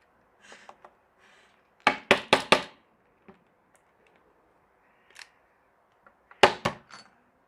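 Sharp knocks as a coffee grinder is tapped to free ground coffee before drip brewing: a quick burst of four loud raps, then scattered light taps and another cluster of knocks near the end, close and dry.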